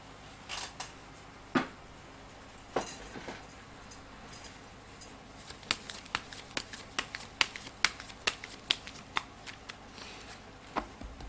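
Fortune-telling cards being shuffled and handled for a daily horoscope reading, a series of crisp snaps and riffles that speed up into a quick irregular run of close clicks, with no talking.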